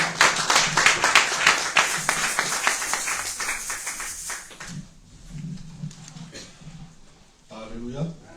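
A church congregation claps in fast, steady rhythm for about four seconds, loud and full. After that, cheering voices and a speaking voice follow over faint taps.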